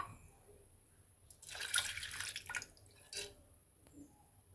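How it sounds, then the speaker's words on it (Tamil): Water is poured from a vessel onto lentils in a pressure cooker on the stove, a soft splashing gush lasting about a second followed by a shorter splash, fairly quiet and close. "தேவையான அளவு தண்ணி ஊற்றிக்கலாம்."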